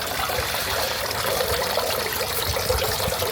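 A slip of fortune paper dropped into water, giving a steady, close trickling and sloshing of liquid that runs throughout with no talk.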